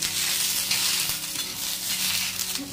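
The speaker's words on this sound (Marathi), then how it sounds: "थोडंसं तेल टाकून घ्यायचं याच्यावर आणि मस्त भाजून घ्यायचं असं चांगलं।" Green chillies fry in a little oil with a continuous, close, crackling sizzle and faint stirring scrapes throughout.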